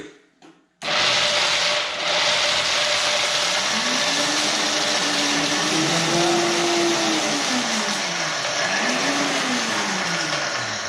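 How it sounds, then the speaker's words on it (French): A blender kicks on abruptly and grinds hazelnuts into powder loudly and continuously, its whirring pitch rising and dipping as hard bits are pulverized. "On va commencer par faire de la poudre de noisette. Ça va faire un peu de bruit."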